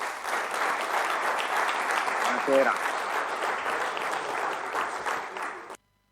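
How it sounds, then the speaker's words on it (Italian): Theatre audience at Teatro Caritas in Chiavari breaks into loud, steady applause lasting several seconds before cutting off abruptly, with a brief spoken greeting heard over the clapping. "Allora un applauso che ti arriva dal Teatro Caritas di Chiavari per il bel risultato di ieri."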